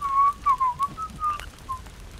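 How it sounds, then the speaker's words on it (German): Someone whistles a short wavering tune alone, several quick clear notes rising and falling over about two seconds, close and fairly loud. "Bitte nicht pfeifen."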